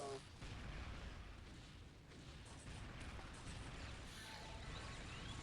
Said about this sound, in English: Rockets coming in from the attackers.